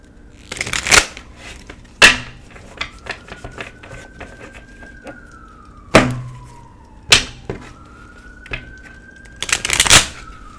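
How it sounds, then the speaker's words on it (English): Tarot cards are shuffled close up in sharp riffling bursts separated by quiet gaps, with a siren wailing faintly in the background. "Bear with me 1 second here while I continue to shuffle."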